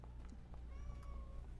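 A person's voice imitates a cat's meow during a tabletop role-playing game session, a single drawn-out, rising-and-falling mew heard over a low background hum.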